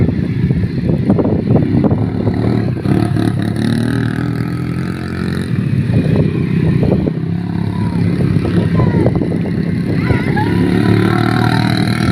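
Racing motorcycles at a competition in Malaysia pass with rising and falling engine whines and revs, several machines overlapping at mid distance amid crowd and ambient noise.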